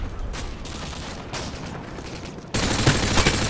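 Gunfire rattles in a Call of Duty Online match, with a burst of shots followed by a louder, denser barrage near the end, all close and without talk.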